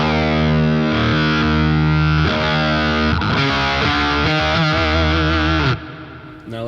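A Beetronics Zzombee fuzz pedal with its filter switch set to the octave side, giving a loud, thick distorted guitar with sustained chords and shifting filtered harmonics that cut off abruptly near the end.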